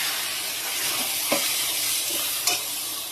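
Taro leaves cooking in a pan with ginger paste being added, giving a steady close sizzle and hiss with a couple of brief stirring scrapes and no voices.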